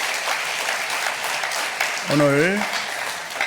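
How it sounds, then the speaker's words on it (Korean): A seated audience at a university chapel service keeps up steady applause throughout, and a voice briefly speaks over the clapping near the end. "여러분 박수 한번 더 합시다"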